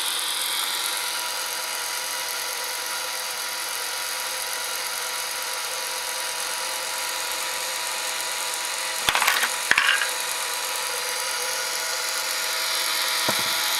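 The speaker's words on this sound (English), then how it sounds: "these two gears are working in opposition, so they kind of move against each other like that" Toy play house lever mechanism with gears working against each other, a steady faint mechanical whir and ratcheting hum, with a couple of sharp clicks and clacks near the end.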